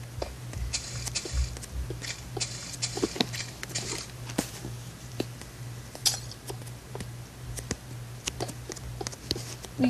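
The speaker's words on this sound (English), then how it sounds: "You can hear my smashing of diamond ores in the background." Repeated block-smashing sounds from breaking diamond ore in Minecraft, a steady stream of short clicky taps and patters over a low background hum, moderately loud with no talking.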